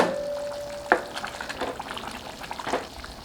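Paneer is stirred into a simmering mint gravy in a pan with a soft bubbling sizzle, one sharper scrape near the start and gentle stirring sounds throughout.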